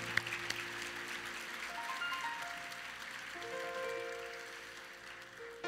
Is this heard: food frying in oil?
no